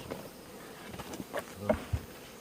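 Honeybees in a single-frame hive box from a collapsed colony make a faint, low buzz, broken by a few soft knocks and brief louder bursts near the end.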